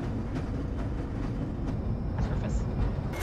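Steady rumble of a train ride in the Black Mesa video game, a constant low roar with faint clanks and a brief high whine near the end, with no talking.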